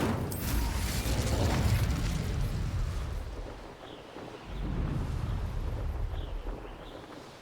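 An Incendio fire spell in Hogwarts Legacy, a deep rumbling whoosh of flame that swells, fades briefly, then roars again with crackling bursts, with no talking.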